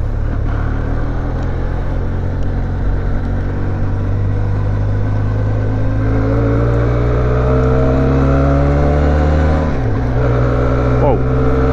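A 2020 Benelli TRK 502 motorcycle engine roars loudly and steadily up close, its pitch climbing through revs before dropping sharply near the end, with brief speech under the engine noise.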